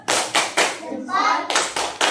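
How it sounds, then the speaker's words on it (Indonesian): Children clap a "tepuk salut" routine in a classroom, with five sharp rhythmic bursts of clapping around a short shouted chant in the middle. "Mari kita kasih tepuk salut buat Okta."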